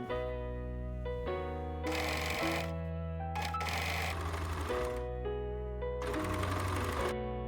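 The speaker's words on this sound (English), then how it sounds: "With the bust pieces and the torso pieces, I went and overlocked the sides of them." An overlocker serging the side edges of bust and torso fabric pieces, running in repeated whirring bursts with short pauses between stitching runs, close and steady.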